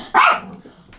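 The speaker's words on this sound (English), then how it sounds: "She's such a vicious dog." A dog gives one loud, close bark with a slightly rough, growly edge, followed by a fainter rumble before it goes quiet.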